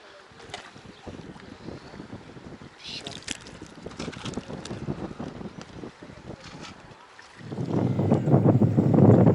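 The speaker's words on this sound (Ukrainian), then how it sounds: "вітер по воді душить сильний і заважає ловити" Wind gusts buffet the microphone over open sea during ultralight fishing, a steady rumbling roar that swells louder near the end, with a voice talking underneath.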